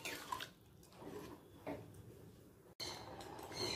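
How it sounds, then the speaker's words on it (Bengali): Water poured into a simmering pea curry (ghugni) in a cooking pot, a steady splashing pour with brief drips, close by and fairly quiet, with no talking. "আরও একটু জল দিয়ে দিচ্ছি।"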